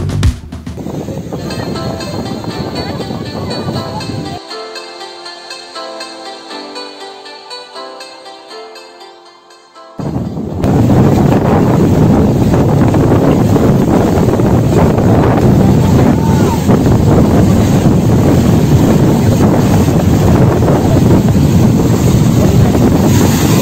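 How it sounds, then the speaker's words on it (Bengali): Waves break close by on the beach at Digha, a loud, steady roar of surf with heavy wind buffeting the microphone, which follows about ten seconds of music that fades out. "এখানে সমুদ্রের ঢেউগুলো জাস্ট সামনেই আছড়ে পড়ছে"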